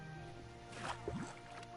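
Water sloshing and splashing in the video game Biomutant, a short soft wet burst over a steady hum of game background sound.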